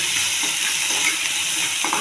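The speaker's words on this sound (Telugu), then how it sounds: "పచ్చిశనగపప్పు అండి నానబెట్టింది. ఇది కూడా బాగా వేగాలి." Soaked raw chana dal frying in a pan, with onion, for a thotakura curry: a loud, steady, close sizzling hiss that runs unbroken throughout, with no voices.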